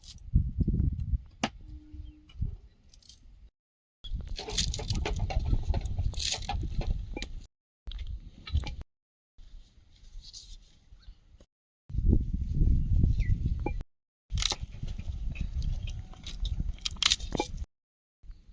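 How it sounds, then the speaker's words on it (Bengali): Onion, garlic, chili and coriander are chopped on a board in bursts of close, crisp knife strikes separated by short pauses. "পেঁয়াজ রসুন লঙ্কা ধনে পাতা সব কুচি করে নেবো"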